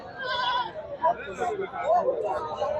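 Goats bleat repeatedly at a busy goat market, several close wavering calls rising over a steady babble of crowd chatter and people talking.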